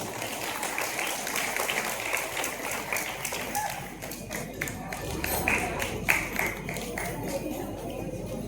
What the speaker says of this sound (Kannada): ಅವರಿಗೊಂದು ಚಪ್ಪಾಳೆ.